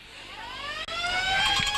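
Half-time siren sounding across the ground at an Australian rules football match, a loud sustained wail that holds steady for nearly two seconds with no talk over it.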